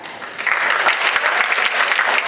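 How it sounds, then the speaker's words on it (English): An audience claps steadily and thickly for actors brought out onstage at a theatre performance. The crowd applause is dense and even, with no voices over it. "Please give them a big clap."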